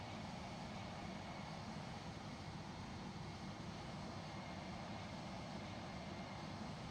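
A British Airways Airbus A320 engine at cruise altitude in the FlightGear flight simulator gives a steady, even, broadband roar that holds unchanged throughout, with no voices.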